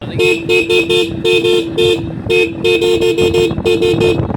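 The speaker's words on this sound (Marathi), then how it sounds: "भावानं मेंढा हॉर्न बसवलाय तर आवाज एवढा ऐका" A loud, bleating ram-sound novelty horn on a vehicle sounds in a rapid run of repeated blasts, close and piercing, with a short pause partway through.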